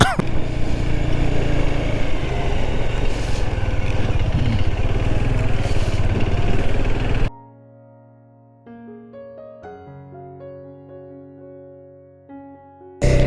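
A motorcycle labours in first gear up a steep, loose-gravel mountain pass on the Singela route in Ladakh, its loud close engine drone running steadily for about seven seconds before cutting abruptly to quiet music-like tones.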